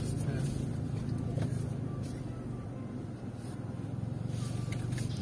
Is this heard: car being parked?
yes